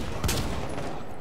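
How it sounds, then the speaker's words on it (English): Gunfire in the video game Rainbow Six: Siege, a dense, continuous crackle of shots with one heavier thump near the start, steady and loud across the short moment. "Where are they shooting you from?"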